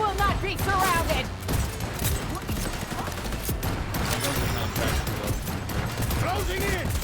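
Rapid gunfire bursts from the Cyberpunk video game, dense and continuous across the clip, mixed with game effects and voices talking over the action.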